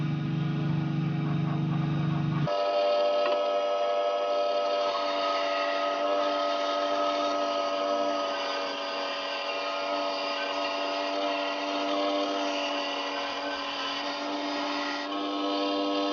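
ALDI hobby bandsaw slicing through 18mm plywood, a steady loud motor whine with the blade rasping continuously through the board for the whole stretch, after a brief lower hum at the start.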